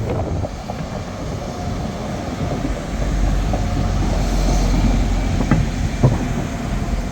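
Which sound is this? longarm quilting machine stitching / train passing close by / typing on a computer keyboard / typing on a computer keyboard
train passing close by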